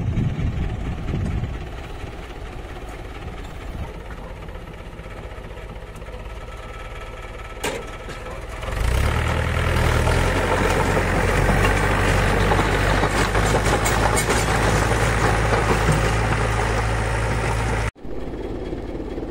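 A tractor engine runs steadily with a heavy low rumble, getting louder partway through and holding at a strong idle-like drone, with a brief cut near the end as it is driven off on a farm.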